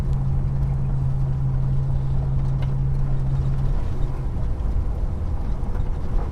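A Holden HK engine runs steadily with a low, droning rumble and a held tone that drops away partway through, loud and close with no talk over it.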